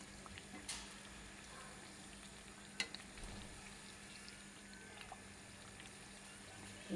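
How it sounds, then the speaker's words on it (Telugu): Moong dal kachori frying gently in oil over a medium flame, a faint steady sizzle with a few soft clicks and stirring touches, no voices. "మీడియం ఫ్లేమ్తో నెమ్మదిగా వేయించుకోవాలి"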